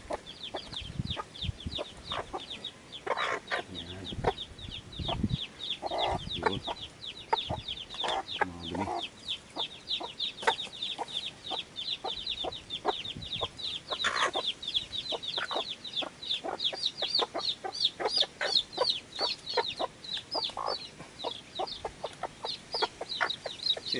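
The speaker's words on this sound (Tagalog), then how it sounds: "ito guys yung mga sisiyo dito" Rhode Island Red hens and their newly hatched chicks make constant high cheeping and peeping with scattered clucks, a busy, steady chorus close at hand.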